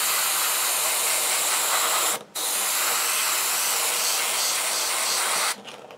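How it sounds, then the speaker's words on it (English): An airbrush sprays black or grey primer in a steady, loud, close hiss that breaks off briefly midway, then resumes and stops near the end. "And this is about how I would spray my black or grey primer."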